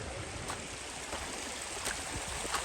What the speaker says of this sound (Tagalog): Talagang dinig na dinig ang lagaslas ng tubig, ang agos ng tubig.